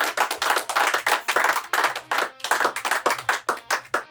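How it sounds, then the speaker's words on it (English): Small group of band musicians clapping for themselves after a jam performance, close hand claps in an irregular rapid rhythm that fills the whole stretch, with no talking. "Give yourselves a round of applause"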